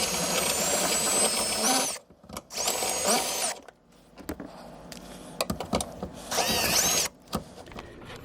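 A power grinding tool whirs in loud high-pitched bursts against the rear door check of a 2004-2006 first-generation Toyota Tundra, three long runs separated by short pauses and scattered clicks, close up.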